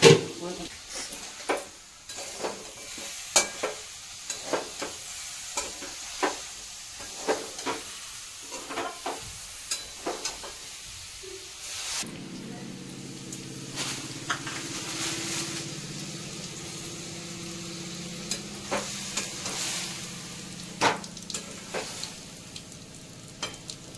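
Jaggery stirred into a cooking jujube pickle in a pan: a run of sharp spoon clicks and scrapes, then a steadier, thicker bubbling sizzle with occasional stirring knocks, all at moderate volume and close by.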